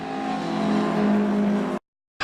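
Historic touring cars racing in a group at Castle Combe, a loud sustained engine roar with rising revs, then a brief cut to silence before the noise returns.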